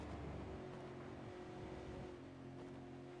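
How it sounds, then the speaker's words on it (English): Supercar engines in a sim racing game roar flat out through a fast corner section, a steady droning engine note with a sustained harmonic whine, fairly faint and continuous without speech. "Listen to the sounds of the supercar."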